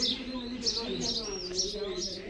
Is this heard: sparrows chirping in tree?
yes